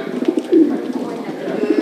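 Pigeons at a pigeon exhibition coo repeatedly in soft, low, throaty bursts, several overlapping close by, with voices faintly in the background.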